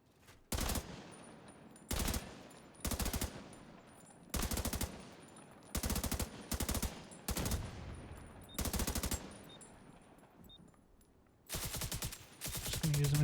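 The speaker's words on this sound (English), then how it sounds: "Just gonna use a machine gun." Repeated bursts of machine gun fire in The Division 2, about nine sharp, loud volleys spaced irregularly across the stretch with quieter gaps between, no talking.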